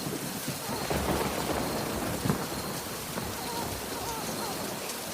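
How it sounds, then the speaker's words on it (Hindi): Heavy rain pours steadily, hissing and pattering on surfaces, while low rumbles of thunder roll underneath in a constant, dense wash of storm noise with no break. "बारिश बहुत तेज़ पड़ने लगी।"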